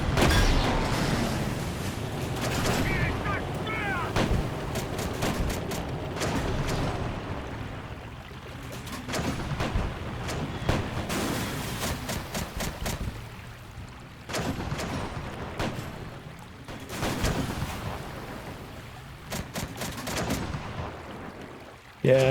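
Repeated booming tank cannon shots in a World War II tank battle game, spaced irregularly against constant engine rumble and battle noise, with someone talking at times.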